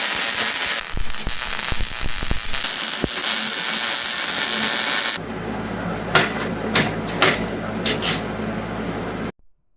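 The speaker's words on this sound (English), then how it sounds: "Now we're going to weld this like this." Welding homemade steel clamps on a VEVOR welding table: a loud, steady crackling sizzle runs for several seconds, then stops, leaving quieter clanks and scattered metallic taps near the end.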